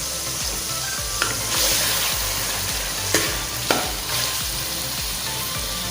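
Tomatoes, ginger and garlic fry with spices in a pan for a boneless chicken malai handi, hissing steadily up close while a utensil scrapes and stirs in an uneven rhythm, with a few sharper clanks and no speech.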